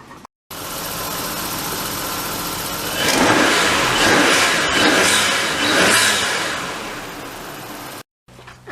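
Nissan R32 Skyline with a turbocharged RB25DE engine conversion driven around the block, heard up close as a steady engine drone that swells under acceleration for a few seconds, then settles back.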